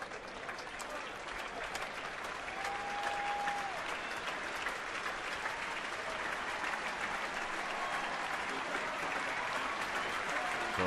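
A baseball crowd at a Braves game in San Francisco applauds as pitcher Bumgarner leaves the game, steady far-off stadium clapping that swells slightly and holds, with a commentator's voice faintly over it.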